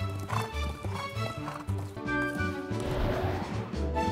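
Horse hooves clip-clop in a steady rhythm in an anime scene, mid-loud under music, with a brief clatter partway through.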